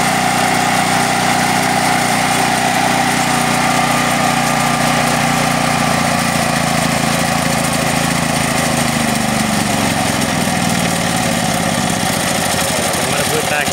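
A Firman H07552 generator converted to natural gas runs loud and close with a steady droning engine note, which falters and sags near the end as the gas flow is cut back, while someone speaks over it.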